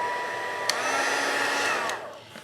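A dual-mode heat tool for embossing powder blows with a steady, loud airy whoosh that ends abruptly near the close, with a click at the start.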